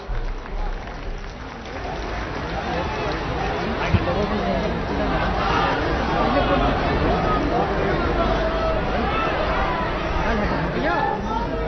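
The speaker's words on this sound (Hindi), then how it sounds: "आप सबकी जोरदार तालियों के बीच" A large crowd at a rally for PM Modi in Prayagraj claps and cheers loudly and steadily, a dense, continuous wash of applause and crowd noise with no pauses.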